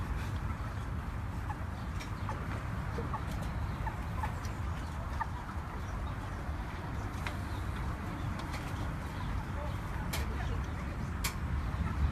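Steady low rumble of motorway road or engine noise dominates, with faint clucks and coos from chickens in rows of plastic crates on a truck barely poking through the continuous drone.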